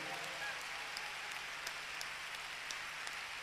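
Applause from a concert audience at a 1994 show, a steady wash of clapping that continues evenly throughout without a break.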